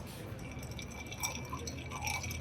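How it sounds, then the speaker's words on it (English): A spoon stirs an iced drink in a glass, a happy hour cocktail, with the spoon's back kept against the glass. Soft, steady clinks and swishes of ice continue quietly throughout. "when you stir, you want to keep the back of the spoon against the glass"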